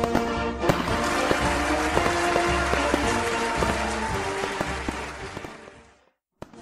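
Steady rain patters densely at a harbour quay beneath a bed of tonal music, then fades out near the end.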